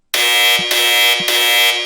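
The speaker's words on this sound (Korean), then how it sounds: "요양원에 급작스런 화재 경보가 울렸습니다." A fire alarm in a nursing home blares loud and steady, a harsh electronic buzzing tone that dips briefly twice in a regular pulsing cycle, heard alone with no voices.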